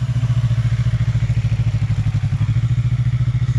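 A Yamaha R3 motorcycle pulls away as the clutch is let out, its engine throbbing close by in a fast, even pulse that holds steady for a few seconds.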